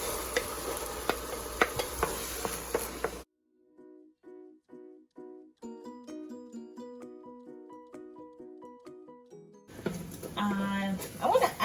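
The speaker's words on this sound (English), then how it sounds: "Now we're gonna add our okra." Okra tipped into a hot frying pan with oil, for a fried okra and goat meat stew, sizzles and scrapes loudly as it is stirred, at the start and again at the end, with a stretch of tonal music between.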